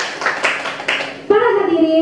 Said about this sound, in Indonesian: Tepuk tangan dalam yang meriah.